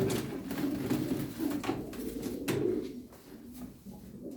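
Tumbler pigeons coo in a loft in Darıca, soft repeated low calls rising and falling, with occasional sharp taps or wing flicks breaking in; fairly close, no talking.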